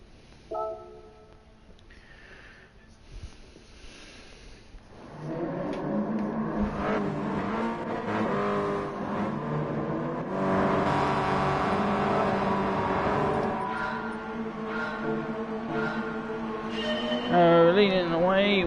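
Subaru BRZ race cars in a racing video game at Trial Mountain Circuit rev hard and whine through gears. They start faint, then roar loudly and continuously from midway, with a commentator talking over them.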